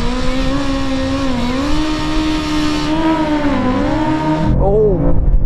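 BMW M5 CS and BMW M superbike launching side by side in a drag race, engines revving high and climbing through gears loudly, with a voice talking over the roar throughout.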